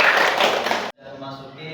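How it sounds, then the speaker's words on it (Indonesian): A classroom of students claps their hands in a dense, loud burst lasting about a second, which stops abruptly before a voice starts talking. "Oke, beri tepuk tangan kepada semuanya."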